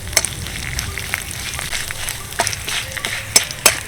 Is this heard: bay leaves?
yes